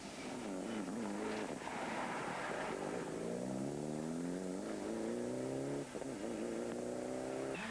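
A Mitsubishi Evo rally car on a tarmac single-stage rally, its engine loud and close, revving and rising through the gears in long climbing sweeps with a brief lift near the end.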